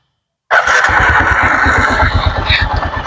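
A second-hand Bajaj Platina 100cc ES motorcycle fires up abruptly after a brief silence, then settles straight into a loud, close, steady thumping idle.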